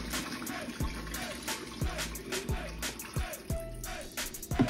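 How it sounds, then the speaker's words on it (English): Water splashes and gurgles steadily as it is dumped into a sink, with a few soft clunks and knocks along the way. "We're gonna dump this water real quick."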